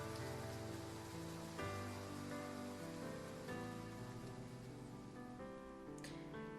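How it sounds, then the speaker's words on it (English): Rain from the video game Love and Deepspace falls steadily, a soft patter on surfaces over a layered musical score that shifts chords every few seconds. "It's common for sudden downpours to come as quickly as they go."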